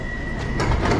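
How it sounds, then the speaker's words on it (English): A loud rumbling London Underground Bakerloo line train roars close by as it arrives, rising in intensity with rattling and a brief steady whine, no voices. "another Bakerloo line service"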